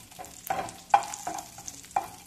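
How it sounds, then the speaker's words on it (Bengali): Bay leaves and dried red chilies frying in hot oil in a pan, a close sizzle punctuated by four sharp scraping stirs of a spatula at a steady rhythm, with no voices. "এর মধ্যে এবার তেজপাতা দিয়ে দেবো আর শুকনো লঙ্কা দিয়ে এটাকে একটু ভালো করে ভেজে নেব।"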